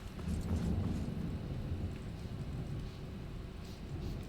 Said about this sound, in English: Dang, it's thundering.